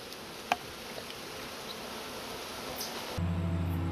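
Honey bees drone steadily around a hive while colonies are being fed for winter, a soft continuous buzz with a brief click early on and a louder low hum entering near the end.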